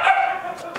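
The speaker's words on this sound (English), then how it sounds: "Oh man, my dogs are all bothered." Several dogs bark and yip in a short burst outdoors beside a grill, loud at first and fading, with a brief second yelp near the end.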